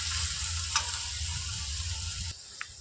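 Onions fry in a pan for aloo paratha, a steady broadband sizzle holding throughout at moderate level, with a soft tap of a utensil near the middle and the sizzle easing slightly toward the end.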